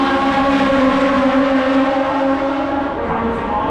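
V8 Supercars race cars roar past at speed, a loud sustained engine whine holding steady, then easing off slightly at the end, with faint crowd or commentary underneath.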